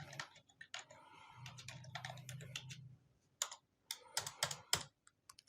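Keystrokes on a computer keyboard come in quick uneven bursts, one stretch of steady clicking and then a few scattered clusters of taps, close and fairly quiet against a low background hum.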